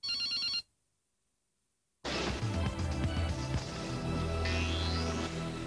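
A mobile phone rings in a D2 Mannesmann television advertisement: a short, bright electronic ring tone, loud and close, then a sudden silence of over a second before loud music with layered instruments takes over.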